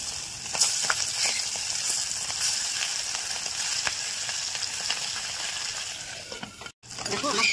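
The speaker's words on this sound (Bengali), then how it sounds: "বাদ বাকি মাছগুলো আমি ভেজে নেব।" Small puti fish frying in hot oil, a steady close sizzle with occasional crackles and spatters, under a voice speaking, with a brief cut near the end.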